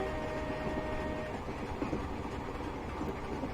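Class 24 diesel train coasting along the rails between Inverness and Dingwall in a rail simulator, giving a steady loud rolling rumble with faint wheel clatter and no engine roar.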